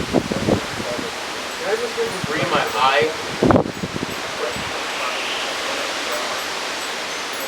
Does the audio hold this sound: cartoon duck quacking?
no